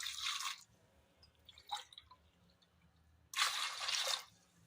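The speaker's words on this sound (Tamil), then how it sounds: "2 டம்ளர் தண்ணி சேர்த்துக்கலாம்." Two bursts of water are poured from a tumbler onto chana dal in a pot for an appalam kootu, each a short hissing splash up close, separated by a quiet gap with a small clink.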